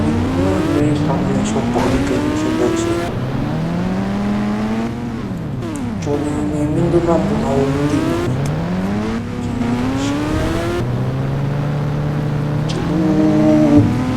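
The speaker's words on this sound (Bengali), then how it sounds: "এখন বাইকটা চালাবো তো আমরা" Motorbike engine from an Indian bike video game, a loud continuous synthetic drone whose pitch sweeps up and down through repeated gear changes, close and unbroken.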